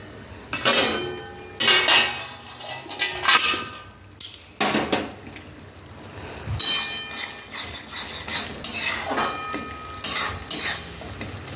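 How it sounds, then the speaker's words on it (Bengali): Egg curry masala sautéed in a pan, heard as loud, close spatula scraping and metallic clatter in repeated bursts over a soft sizzle, with no voices. "এবার ভালো করে একটু কষিয়ে নিই।"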